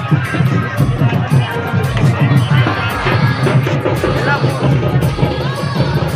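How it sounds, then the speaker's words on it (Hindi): A dense village fair crowd, with continuous loud babble of many voices, shouts and bustle all around, close and unbroken throughout. "आज देख सका था कितना भीड़ है हमारे गाँव में मेला के"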